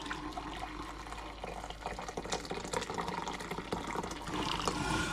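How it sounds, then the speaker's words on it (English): Roughly two cups of broth pour into a pot in a steady, splashing stream that runs the whole time, close by and fairly quiet, with a bubbling, liquid texture. "Get about 2 cups of broth,"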